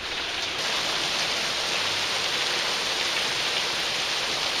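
Steady, dense rain hiss falling continuously and fairly loud, with no voices or distinct drops standing out.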